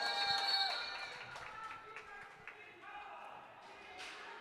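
Crowd at a roller derby bout between Dom City Dolls and Ruhrpott Roller Derby cheering and clapping in a large hall, a steady roar of applause that swells early and then eases, with scattered shouts and voices mixed in.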